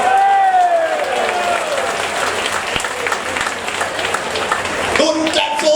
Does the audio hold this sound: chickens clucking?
no